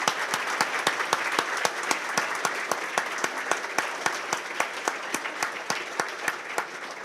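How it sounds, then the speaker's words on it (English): Breakfast-event audience claps steadily through a continuous round of applause, with a sharp, regular clap standing out close by against the broader wash of many hands. "give a big round of applause for these two amazing people"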